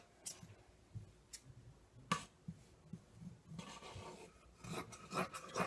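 Scissors cutting fabric strips for a rag rug, intermittent close snips and rasping cuts with short pauses, getting busier toward the end.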